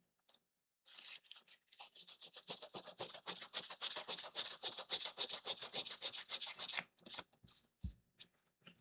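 Steady rubbing rasp of fairly soft sandpaper sanding a wooden block for home decor, a fast run of close, even back-and-forth strokes after a few tentative scrapes, then a brief knock at the end.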